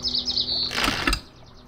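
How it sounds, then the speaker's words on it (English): Ambient birds in the adventure game Lost Lands 2 give a quick run of high, bright chirps, followed by a short thudding knock and then quiet. "Birds chirping."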